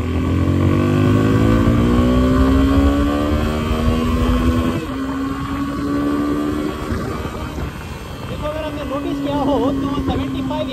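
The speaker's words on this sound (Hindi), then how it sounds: "थोड़ा सा इसमें मैं रेव करके आपको दिखाता हूँ, आप मीटर पे थोड़ा सा ध्यान दे दो" Suzuki V-Strom SX 250 motorcycle engine revving up and settling back, loud and close, its pitch climbing and falling over several cycles while someone talks.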